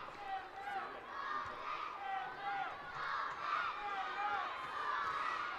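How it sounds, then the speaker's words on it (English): Stadium crowd roaring as a Dublin vs Kildare Leinster Senior Championship Gaelic football game ends, a broad sustained rumble of many distant voices rising and falling, with a commentator talking over it. "And the crowd at its noisiest today, right at the end of the game."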